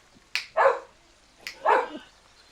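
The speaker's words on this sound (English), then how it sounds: "I can hear the dog outside barking," A dog barking outside, heard through open windows: two separate doubled barks, a quick yip then a fuller bark each time, moderately loud with quiet in between.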